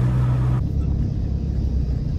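Car driving on a camping trip near Lawrence, NSW, its low engine and road rumble steady and close from the cabin, with a tonal hum in the first moment that cuts off abruptly.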